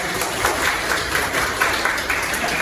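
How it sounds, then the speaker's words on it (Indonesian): An audience at a university lecturer training session applauds, giving a fairly brisk, moderately loud patter of clapping with individual claps poking out of the mix. "Oke, tepuk tangan dong."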